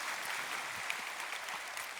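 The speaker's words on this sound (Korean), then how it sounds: "멋진 강연 들려주신 박건웅 교수님께 다시 한번 큰 박수 부탁드립니다." Audience applause following a public natural-science lecture on data and artificial intelligence, a steady dense wash of many hands clapping evenly throughout, moderately distant, with no voices.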